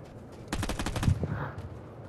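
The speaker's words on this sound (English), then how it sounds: "Somebody's shooting me." Gunfire in the video game Vigor: a rapid burst of about eight automatic shots, fairly close, followed by a couple of single shots and a fading tail.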